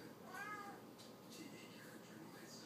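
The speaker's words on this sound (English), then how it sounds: "There's a kitty in there." A cat meows faintly indoors, a short rising-and-falling call near the start followed by softer sounds, with quiet room noise and a little background talk.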